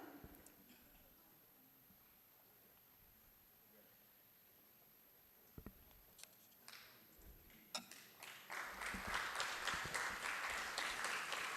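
Applause for a Best PhD Thesis Award recipient at an academic research showcase starts faintly with scattered claps after a quiet pause, then swells into full audience clapping toward the end.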